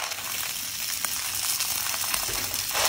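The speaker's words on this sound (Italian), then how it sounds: "E dopo aver dato una bella risciacquata alle vongole, le mettiamo in padella" Clams hitting hot oil with chili in a pan for pasta with clams and broccoli rabe, giving a steady, close, loud sizzle with small crackles throughout and no voices.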